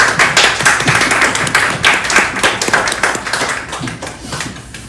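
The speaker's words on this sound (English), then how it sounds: "If we could just share a little applause for the 3." An audience gives dense, steady hand clapping in honor of three grandsons at a celebration-of-life gathering, close and lively for several seconds without talk.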